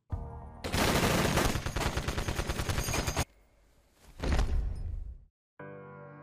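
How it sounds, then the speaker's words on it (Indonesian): Gunfire in a mafia film scene, a loud sustained burst of rapid automatic shots, then a short pause and a second burst, ending in silence and a low tone. "Namun anak buahnya tak lagi mempercayai Taha dan langsung menembak mati mafia sombong itu."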